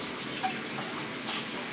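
Washed wild salad greens rinsed under a running tap, giving a steady, fairly faint hiss of flowing water that holds evenly throughout with no talking.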